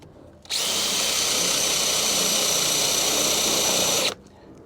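A power drill whines steadily at high speed for about four seconds, drilling metal on a Citroen Visa rear panel, loud and close, then cuts off abruptly.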